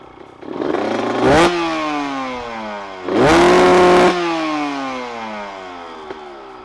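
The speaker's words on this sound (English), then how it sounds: "All right, I'm gonna fire it up and see if the spark plug did the trick." A two-stroke 125 dirt bike fires up and gets two sharp revs that climb and fall away, ringing close and loud between steadier idling, with no talk.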